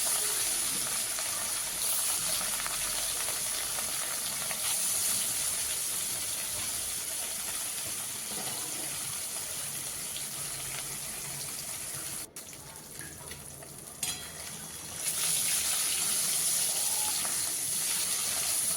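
Pieces of rohu fish fry in a generous amount of oil, a steady hissing, spattering sizzle that holds evenly, dips briefly and then returns loud and close, with no voices.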